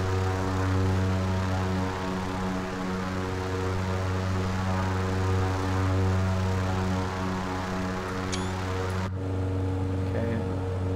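Steady propeller drone of an Edgley EA-7 Optica engine in Microsoft Flight Simulator, a continuous even hum that holds throughout before dropping off abruptly near the end.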